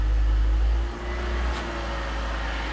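A BMW E46 idles in second gear on a lift with its back wheels spinning freely, a steady low engine hum with a slight dip partway through, no voices.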